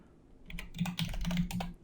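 Fingers type on a computer keyboard, a short flurry of soft, uneven key clicks up close against a quiet background.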